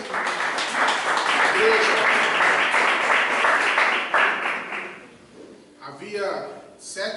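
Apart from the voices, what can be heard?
church congregation applauding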